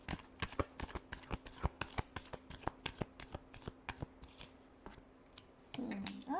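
Tarot cards are shuffled in quick repeated riffles, a fast train of crisp snapping clicks close to the ear, ending with a short soft sliding sound.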